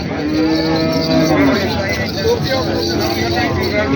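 Cattle low repeatedly at a livestock market in Jagraon, long loud moos layered over the crowd's chatter and background murmur.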